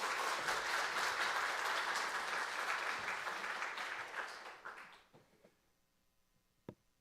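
A church congregation applauds to welcome a visiting pastor at a Sunday afternoon service, a dense, steady burst of clapping that holds for several seconds before thinning out into a few scattered claps and then quiet.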